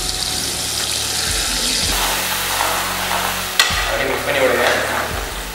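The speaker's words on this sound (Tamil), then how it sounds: "அப்படியே ஃப்ரை பண்ணி விடுங்க" Ground tomato paste fries in a pan for a fish curry (Jalebi meen kulambu), giving a steady close sizzle with stirring scrapes and a sharp clink partway through.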